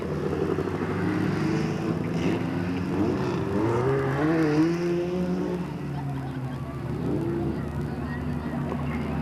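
Race cars at Delta Speedway coming off turn 4, engines droning and rising in pitch as they pass, heard over a fairly loud track ambience with a voice talking on top.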